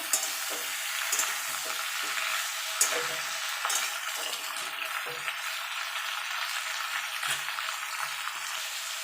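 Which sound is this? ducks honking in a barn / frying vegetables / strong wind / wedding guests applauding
frying vegetables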